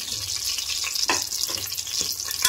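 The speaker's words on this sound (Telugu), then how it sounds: "ఆయిల్ హీట్ అయిపోయింది. ఇప్పుడు వచ్చేసి మనం మసాలా వేసుకోవాలన్నమాట." Whole spices such as shahjeera hitting hot oil in a pan crackle and sizzle loudly and close up, with brisk stirring scrapes running through the short burst and no voice over it.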